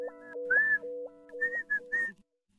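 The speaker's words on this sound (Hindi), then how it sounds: "सीटी बजाना बंद करोगे?" A person whistles a short, wavering tune in a series of clear, close notes with brief pauses, ending after about two seconds.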